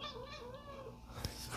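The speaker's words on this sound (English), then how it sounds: "Freaking weird cat." A house cat meows in a drawn-out, wavering, yowling cry close by, followed by a short bump or thud near the end; fairly quiet overall.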